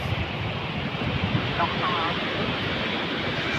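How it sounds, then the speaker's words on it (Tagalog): Strong ocean waves at a beach wash in as a continuous broad roar mixed with wind buffeting the microphone; people talk faintly underneath. "yung alon sobrang lakas"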